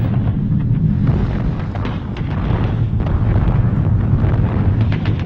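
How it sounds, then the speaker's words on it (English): Bombs bursting during a Japanese daytime air raid on Chungking, central China, in 1942: a dense, continuous roar of deep rumbling blasts and rolling booms, heavy and sustained throughout. "A daytime bombing raid by the Japanese Air Force."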